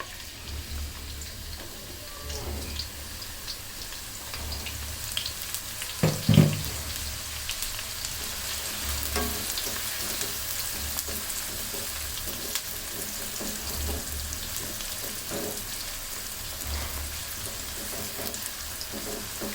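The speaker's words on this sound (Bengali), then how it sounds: "পেঁয়াজটা বাদামি কালার হওয়ার আগ পর্যন্ত ভেজে নিতে হবে" Onions fry in hot oil for beef tehari, a steady dense crackling sizzle throughout with one brief clatter near the middle.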